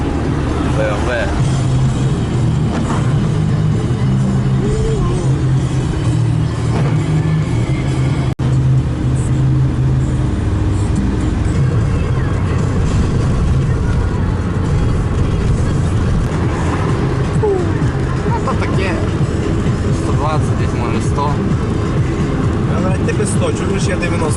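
Car cruising on a highway at speed with a loud steady engine and road roar, a faint turbo whistle woven through it, and people talking inside the car over the noise.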